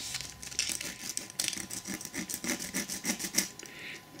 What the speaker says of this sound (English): Take off any of the bigger bits and just use the sandpaper for the rest.